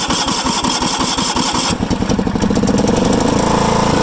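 An MTD ride-on mower engine cranks with a rapid churning beat, then fires and settles into a loud, steady idle, close up with no talk.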